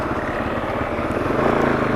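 Engine of a Kove 450 Rally motorcycle running on a ride, a steady noisy drone with a slightly clanky, rattling pulse, close and continuous with no voices.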